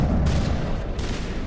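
Gunfire in a space-themed shooter game: sharp, loud bursts of shots at about 0.25 s and 0.95 s over a dense, continuous low rumble of game noise, with no voices.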